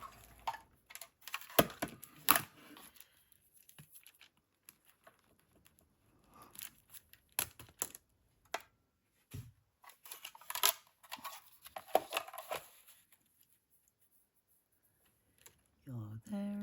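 Scissors snipping paper for a Fauna & Flora journal page spread: clusters of small, crisp, close clicks and snips in bursts separated by quiet pauses, with a voice speaking now and then.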